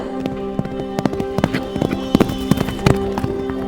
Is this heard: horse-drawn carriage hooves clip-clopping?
yes